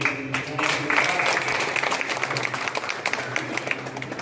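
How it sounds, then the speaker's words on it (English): Applause from the audience at an art and craft exhibition function in Agartala, a dense, steady wash of clapping lasting throughout with some voices mixed underneath. "So another round of applause and thanks to all the"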